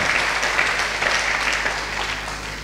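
Church congregation applauding to acclaim the Lord, a dense, loud, continuous clapping from many hands that holds steady throughout.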